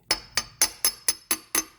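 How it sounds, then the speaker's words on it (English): A hammer taps a crankshaft oil seal into place on a 2005 Acura RSX Type S engine, seven light, evenly spaced metallic taps ringing close up with no talk. "We get the hammer and we just do a tap, tap, tap."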